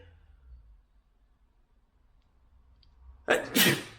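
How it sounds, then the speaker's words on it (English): A single sharp sneeze bursts out near the end after a quiet stretch, loud and close, with a quick double-peaked burst. "I don't know why I'm sneezing"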